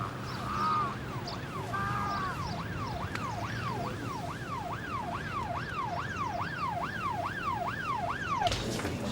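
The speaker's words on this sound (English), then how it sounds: "There's an ambulance on its way." An ambulance siren wails in a steady, repeating rise-and-fall pattern at moderate distance over a low rumble of road traffic, with no speech.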